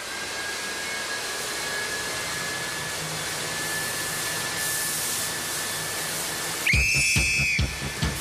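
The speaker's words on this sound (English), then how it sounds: "Will you start the fans, please?" A steady rushing whoosh of electric fans blowing with a faint whine on a game show set, then a louder burst of blowing noise near the end.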